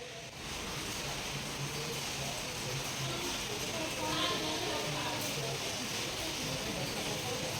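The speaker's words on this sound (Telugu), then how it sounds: "చూడండి వర్షం ఎలా పడుతుందో" Steady rain falls through a morning-long downpour, a dense even hiss of drops on surfaces that holds unbroken and moderately loud from start to finish.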